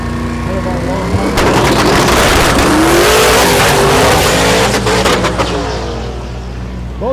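Drag race cars at Thunder Valley in Noble, Oklahoma make a pass, their engines roaring loud and close with crackling bursts, swelling then fading over several seconds, with a commentator talking underneath.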